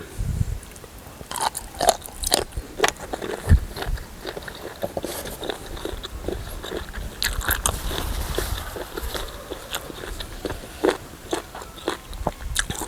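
Crunchy chewing on giant octopus tentacles in a spicy Thai-Lao tam sua salad, heard up close as a series of sharp, irregular crunches and bites, each followed by softer wet mastication.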